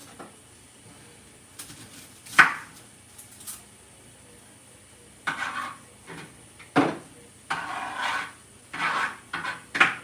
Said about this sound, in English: right now I'm going to be cutting up the onion